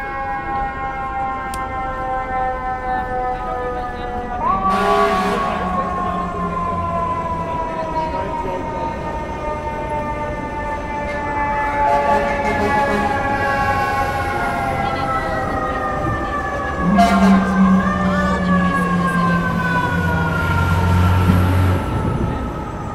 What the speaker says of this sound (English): Oh, now with the fire trucks coming.